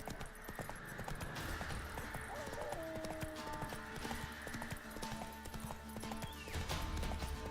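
Hooves of the horse Roach clip-clop steadily in The Witcher 3, close and continuous over a game soundscape with an occasional neigh.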